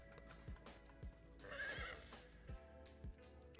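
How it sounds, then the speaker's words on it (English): A horse in the video game Palia gives a clear whinny mid-clip, surrounded by rhythmic clip-clop hoofbeats that recur about every half second, fairly quiet overall with no talk. "Random horse sound, don't worry about it."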